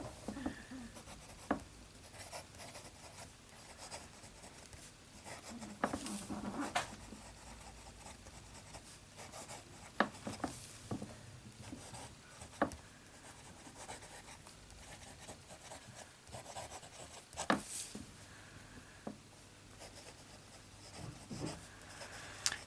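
A fountain pen with a medium nib writing on paper, giving faint close scratchy strokes and soft taps in an irregular rhythm throughout.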